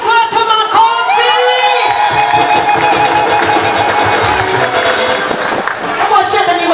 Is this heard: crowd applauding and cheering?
yes